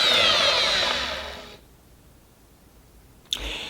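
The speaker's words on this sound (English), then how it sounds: "I'm just gonna keep whisking now, hoping that it'll get back to where we left it." An electric whisk whirs loudly through a cooking mixture, then stops and leaves near silence before the motor starts up again with a sharp click.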